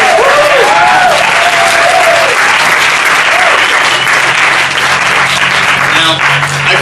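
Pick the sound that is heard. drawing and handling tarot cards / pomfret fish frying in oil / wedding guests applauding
wedding guests applauding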